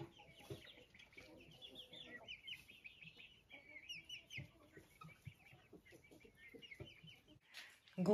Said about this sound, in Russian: Курочка заквактала